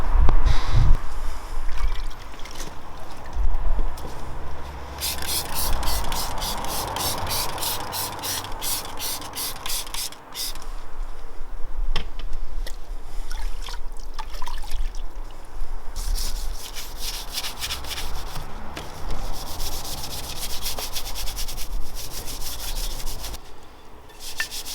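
A Honda CB250 scrambler motorcycle wheel is being washed and degreased, with rhythmic scrubbing and rubbing strokes that come in fast repeated runs, loud and close, with no talking.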